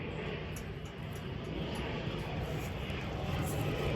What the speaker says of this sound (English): uh-oh, these airplanes start flying.